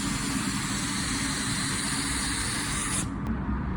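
A spray gun lays a drop coat of blue automotive paint on a car panel: a steady, dense hiss that runs unbroken for about three seconds, then cuts off sharply.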